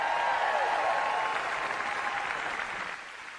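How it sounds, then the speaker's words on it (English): Crowd at a political speech by the Illinois governor cheering and applauding, a steady wash of clapping and shouts that slowly fades toward the end. "how about another cheer for our great House Democratic leader in Washington, Hakeem Jeffries."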